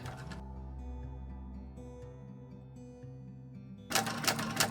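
Sewing machine back-stitching back and forth over a zipper pull on a handbag exterior, a steady close mechanical whirring with repeating stitch rhythm, then a brief louder burst near the end.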